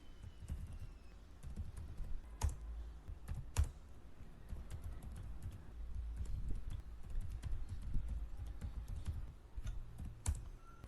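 Steady, continuous typing on a computer keyboard while entering C code, dense overlapping key clicks with a few sharper, louder keystrokes, close up with no voices.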